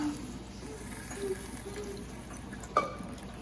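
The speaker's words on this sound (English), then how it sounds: "Pour a little bit more water." Water is poured onto a hot Blackstone 17-inch E-Series griddle, producing a soft, steady hissing and trickling with a sharp splash near the end, close and without talk.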